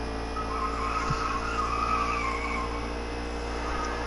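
A racing truck at Kentucky loses grip and spins out, its tires skidding in a long, steady squeal with engine noise beneath, loud and continuous with no talk.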